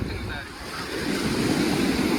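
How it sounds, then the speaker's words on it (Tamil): Wind and surf at Chavakkad beach in Kerala, India: continuous wave wash and gusting wind buffeting the microphone, with the low roar swelling louder toward the end. "காற்றுங்க சார்."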